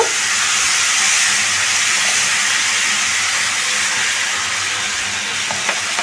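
Chicken pieces frying in hot oil in a pan for a thin chicken curry, a loud, steady hiss and sizzle that stays even throughout, close and with no talk.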